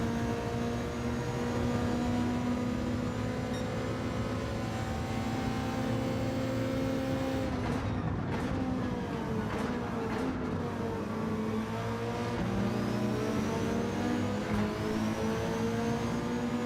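A Volkswagen Beetle engine drones steadily in Gran Turismo 7, holding a constant buzzing tone with a few gear shifts and pitch dips midway before climbing again.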